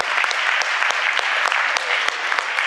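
Audience applause at a martial arts merit awards ceremony, steady dense clapping from a crowd throughout with a few sharper individual claps standing out.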